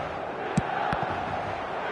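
A stadium crowd at the San Siro in a football video game keeps up a continuous dense roar, broken by a couple of brief sharp knocks near the start.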